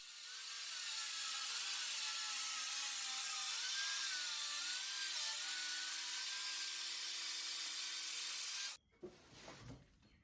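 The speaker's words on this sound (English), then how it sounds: "I'll cut the 3/4 inch sheet of plywood into more manageable strips" A job site table saw rips a 3/4 inch plywood sheet into strips, a loud, steady whining cut with shifting tones for about nine seconds, then stopping abruptly into quieter clatter.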